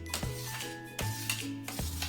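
Corn snack ingredients with tomato get stirred in a bowl, a spoon scraping and clinking in quick, close strokes with a few sharper knocks against the sides.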